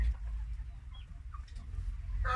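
Several farm chickens clucking in a Thai poultry yard, with low continuous chatter and a few sharper calls rising near the end, no talk.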